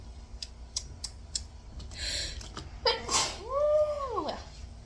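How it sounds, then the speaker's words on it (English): A single person sneezes indoors, a sharp breathy burst followed by a tonal, falling vocal sweep, heard near and moderately loud after several faint clicks and a short rustle. "I can't make a video without me sneezing."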